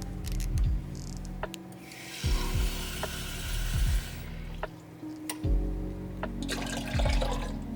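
Water sloshes and pours into a pot with milk in a few bursts, with light clinks and knocks of utensils between pours; no talking.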